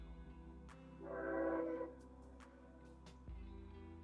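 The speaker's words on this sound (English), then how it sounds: "So that is our train coming through." A train passes outside during an indoor yoga class, heard as a swelling rumble with a tonal horn-like whine that rises, peaks, then fades, moderately loud in the background with no talk over it.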